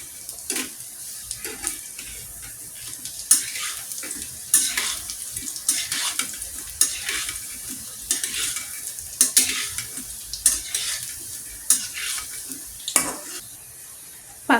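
Vermicelli pakoras fry in oil in a pan, a steady crackling sizzle broken by scraping clinks as the fritters are turned over, with no voices.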